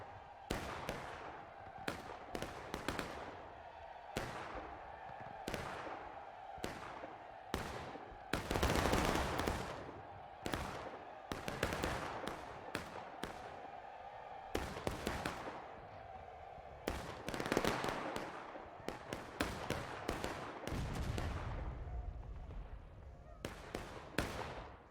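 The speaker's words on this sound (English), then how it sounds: "Good artillery shot by 42nd." Artillery fires in a Civil War-era multiplayer battle game between Union and Confederate sides. Repeated sharp booms and crackling volleys come one after another across a dense, noisy battlefield.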